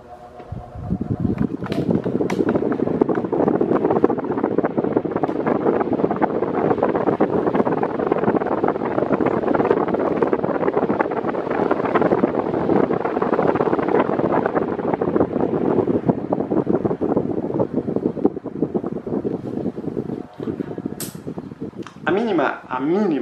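An electric fan switched to its maximum speed gives a loud, steady rushing of air close by, continuous and even for about twenty seconds.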